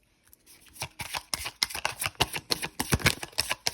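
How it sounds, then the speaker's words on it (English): Tarot cards being shuffled by hand, a rapid run of crisp riffling flutters and snaps that builds after a quiet start, close and fairly loud with no talking. "Cards are trying to jump out of my hand,"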